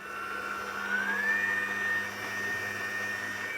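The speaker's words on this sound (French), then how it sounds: "Et là, on va pétrir 6 minutes à petite vitesse" A stand mixer kneads brioche dough made with flour, sugar, wine and eggs at low speed, giving a steady, continuous motor whir with a rising whine, close and alone with no talk.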